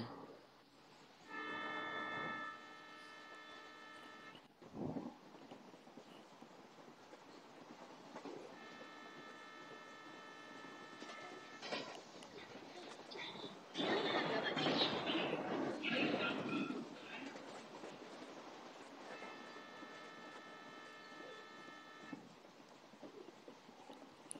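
An Indian locomotive horn in a train simulator game sounds several times in long harmonic blasts, separated by rolling train rumble and clatter.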